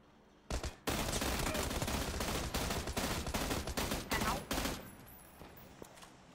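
Dense volleys of gunfire, including a sniper shot, in an online shooter video game, loud rapid bursts packed together for about four seconds before fading into quieter scattered shots.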